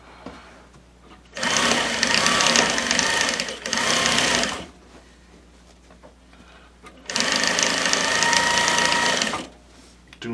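A sewing machine stitches heavy upholstery fabric with welting for a club chair seat, running in two loud, steady bursts separated by a quiet pause while the fabric is turned at a corner.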